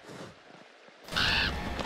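A crow caws loudly in the video game Until Dawn, a harsh, close call that rises abruptly over quiet ambient background and holds for about half a second.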